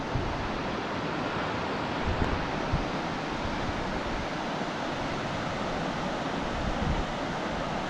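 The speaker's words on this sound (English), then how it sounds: "Here's the river again." A river flowing along the Wonderland Trail near Longmire and Carter Falls on Mount Rainier, in rain, gives a steady, loud broadband rush of water that holds even throughout, with no voices.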